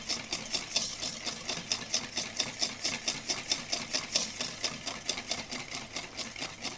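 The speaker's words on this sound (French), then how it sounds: "je prends le temps de bien blanchir, de bien fouetter. Le but étant de faire fondre le sucre dans le jaune d'œuf." A whisk beats egg yolks with sugar in a bowl until pale, for a Tropézienne cream filling, giving a steady, fast, rhythmic run of scraping taps, close and continuous with no talking.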